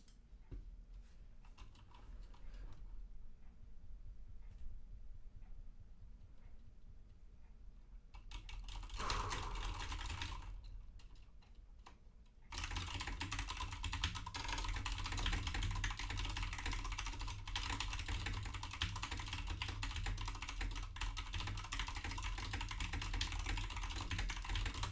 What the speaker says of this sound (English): this one was a 95 words per minute typing test